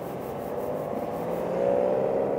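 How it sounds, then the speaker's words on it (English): A Porsche pulling away at a Las Vegas classic car lot, its steady engine whir and road rumble holding even before swelling slightly louder toward the end, with no talk over it. "as a Porsche drives away"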